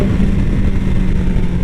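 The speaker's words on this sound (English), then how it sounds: "I like the sound of this motor." A 2016 BMW S1000XR motorcycle engine runs with a steady low, throaty rumble, close and loud, for a short moment without speech.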